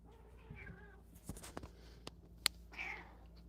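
A small black kitten gives a few soft, faint meows, spaced apart indoors, alongside scattered light clicks and rustles, with no talking.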